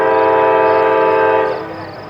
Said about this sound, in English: another northbound makes its way up the Sandusky district, specifically a manifest train